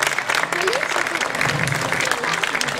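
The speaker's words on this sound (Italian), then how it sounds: "Un applauso, si salutano cavallerescamente." Audience applause at a medieval-themed festival after a duel, a steady crowd of hands clapping continuously at close range with a few voices mixed in.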